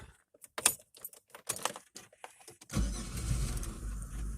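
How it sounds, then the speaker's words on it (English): Keys jingle and click in the ignition of a Chevrolet Venture, then the engine cranks and catches, settling into a steady close idle. "Now we're going to turn the ignition over."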